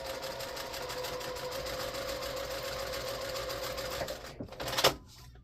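A sewing machine stitching a quilted table runner, a steady fast mechanical whirring hum that slows and stops near the end with a few clicks.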